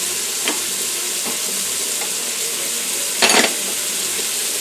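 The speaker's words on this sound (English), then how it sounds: "And you cook the chicken breast about 5 or 6 minutes." Chicken breasts for chicken marsala sizzle steadily in a pan, a continuous bright frying hiss with a few soft clinks and one brief louder burst of spatter, no voices.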